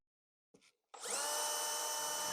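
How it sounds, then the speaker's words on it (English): A power drill pre-drills holes in a wooden window sill during a window installation: a faint tap, then the motor spins up to a steady, close, whirring drone that holds for over a second. "I'm pre-drilling some holes to prevent any kind of splitting."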